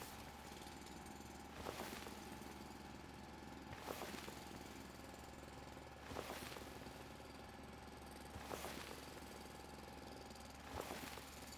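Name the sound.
drill digging in Foundry video game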